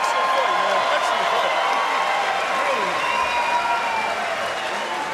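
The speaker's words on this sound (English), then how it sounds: "let's have a round of applause for these two warriors" Crowd applause and cheering in a bare-knuckle fighting arena after the final bell, a dense, loud roar of clapping that stays steady, with voices over it.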